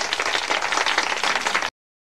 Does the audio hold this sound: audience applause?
yes